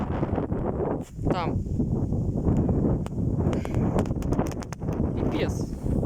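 Powerful gusts sweep an open field and bend the trees, blasting the microphone in loud, surging waves while someone speaks briefly over the roar.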